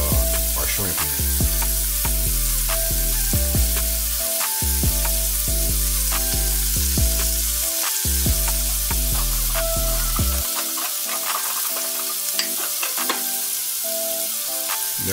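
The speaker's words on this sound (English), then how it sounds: "That's what we're going to fry our shrimp in." Shrimp fry in bacon grease in a pan with a steady, loud, crackling sizzle throughout, over a continuous patterned background sound.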